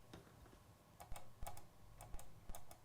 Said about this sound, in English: You can hear that clicking in the mic